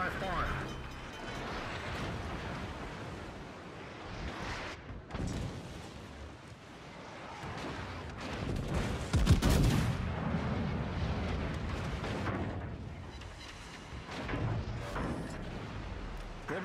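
Main battery fire from the battleship Thunderer in the naval game World of Warships: deep booming salvos under a steady engine and sea rumble. One heavy blast stands out near the middle, and voices call out over it.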